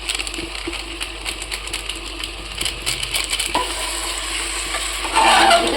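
Chicken pieces coated in masala fry in oil for biryani, with a steady sizzle and crackle. Scraping and stirring clicks from a utensil against the pan come and go, close up, with no talk.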